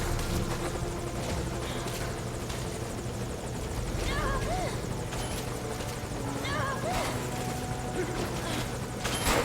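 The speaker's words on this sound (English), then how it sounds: "The chopper!" A helicopter in Metal Gear Solid 5 Ground Zeroes flies close by. Its rotor chop is loud and steady throughout, layered with other in-game sounds.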